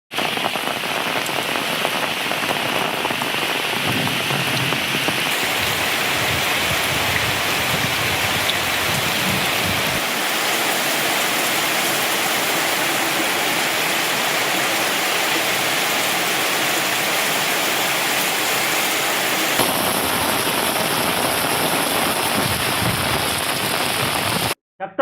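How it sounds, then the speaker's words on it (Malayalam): Heavy summer rain, with hail reported, pours down across the Idukki high range in Kerala as a dense, steady roar of drops on surfaces that holds loud and unbroken throughout, with no voices over it. "ശക്തിയായി പെയ്തിറങ്ങിയ മഴ ചുട്ടുപൊള്ളുന്ന വേനൽ ചൂടിനെ നേരിയ ശമനം വരുത്തി."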